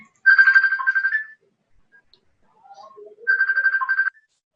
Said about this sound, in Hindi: फोन कर रहे हैं